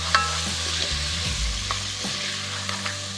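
Meat and sautéed onions sizzle steadily in a pot, with a few close stirring scrapes and clunks of the spoon over a constant frying hiss and a low hum, no talking.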